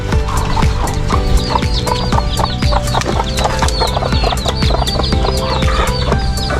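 Hens brooding on eggs in a backyard chicken coop cluck steadily and close by, with repeated short calls overlapping through a busy farmyard din and occasional knocking sounds.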